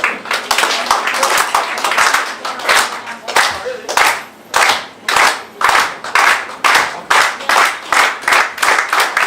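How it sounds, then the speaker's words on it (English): An audience at an African festival in South Australia claps together in three big rounds, the crowd's hands falling into a rhythm of sharp bursts with brief gaps between them, loud and close. "So I please ask to do a 3 big round of applause like this"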